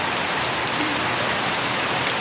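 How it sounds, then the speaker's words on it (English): Heavy tropical rain falls without a break, a full, close hiss of drops drumming on surfaces, with nobody speaking. "Wonderful rain."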